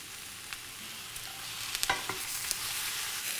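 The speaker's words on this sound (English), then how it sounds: "while the leeks are cooking" Leeks frying in a pan, a steady soft sizzle with a few small pops and clicks of stirring, close and moderately quiet, no voices.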